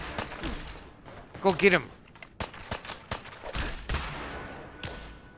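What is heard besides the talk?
gunfire in the video game Fallout 4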